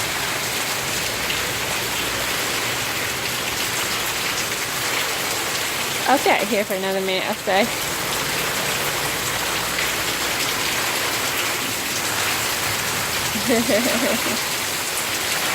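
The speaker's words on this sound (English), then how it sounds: "I think it's just going to downpour from here." Heavy rain pours down steadily in Queensland, a dense continuous hiss of drops on surfaces throughout, with someone speaking briefly over it and a faint voice again near the end.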